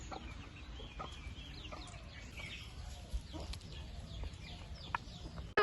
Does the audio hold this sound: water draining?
no